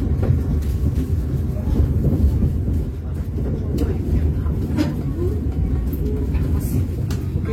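Steady low rumble inside a moving stainless steel business-class passenger train carriage on the Jakarta–Jember route, with continuous rolling noise and occasional faint rattles.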